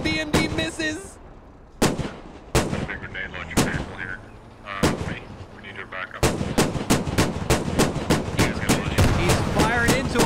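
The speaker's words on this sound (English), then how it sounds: "ACV is just firing blindly. BMD misses." Armored vehicles, an ACV and a BMD, trade cannon fire in a video game battle between Russian airborne troops and the Turkish army at Yehorivka: sharp, loud blasts at scattered intervals, then a rapid, steady string of shots near the end.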